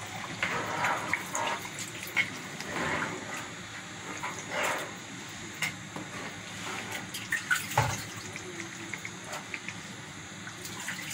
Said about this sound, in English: So I have to add water to it.